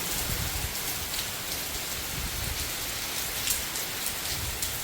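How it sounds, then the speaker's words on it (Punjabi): Steady rain falls throughout, a dense hiss of drops with occasional louder patters, fairly close and unbroken, with no voices. "ਮੀਂਹ ਪੈ ਰਿਹਾ"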